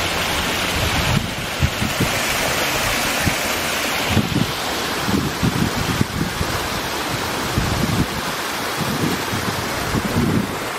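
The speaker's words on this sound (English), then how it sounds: "Some running water. I never noticed this dam here before." Running water pouring over a small dam beside a lake, a steady broadband rush with gusty wind buffeting the microphone throughout, no voices.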